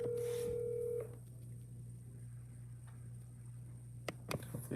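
A phone dials out, with a steady held tone at the start followed by faint ticks and a few sharp closing clicks, all heard alone and quietly without speech.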